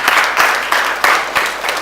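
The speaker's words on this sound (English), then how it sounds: "Please, a round of applause." An audience at a book talk gives a short round of applause, a brief close burst of clapping with a few sharper individual claps standing out.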